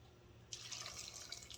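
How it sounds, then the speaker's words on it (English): After a brief quiet moment, a short stream of water is poured into a saucepan of cranberries for cranberry sauce, splashing softly and faintly up close. "Just a splash of water"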